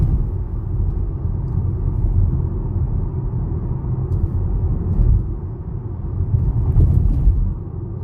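Turbocharged four-cylinder Chevrolet Equinox LT Redline Edition accelerating, heard from inside as a steady low engine and road rumble that swells slightly, with no talking.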